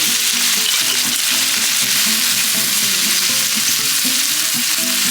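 Red onions and beef frying in a small pan, a loud, continuous sizzle heard up close with occasional stirring scrapes and no voices.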